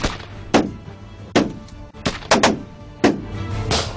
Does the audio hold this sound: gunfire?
yes